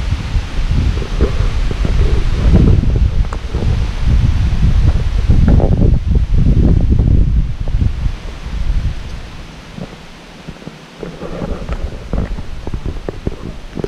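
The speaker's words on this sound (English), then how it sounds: "It is really getting windy out here." Strong wind roars and rustles through leaves, loud and steady, easing briefly near the end before gusting up again.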